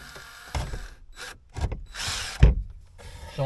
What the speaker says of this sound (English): And an offset drill is very handy for situations like this.